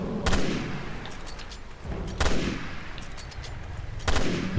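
Sniper rifle shots in the Resident Evil Revelations 2 raid mode crack out three times, about two seconds apart, each loud and sharp with a reverberant tail over steady game noise.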